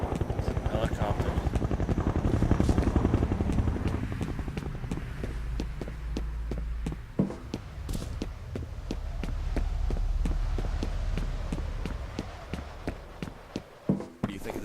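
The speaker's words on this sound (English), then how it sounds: "Helicopter." A helicopter passes in the shooter video game F.E.A.R., its rapid rotor thump loud at first, then fading into separate beats alongside footsteps and other thuds, with voices heard during the flyover.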